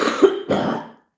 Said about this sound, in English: his cough won't go away.